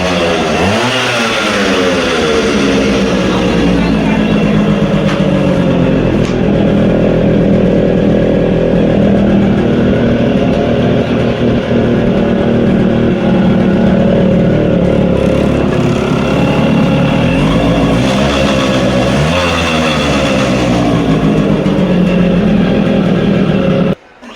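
A Yamaha RX 135 motorcycle engine runs steadily and loudly close by after starting, idling with a throbbing, uneven rumble and occasional rises in revs.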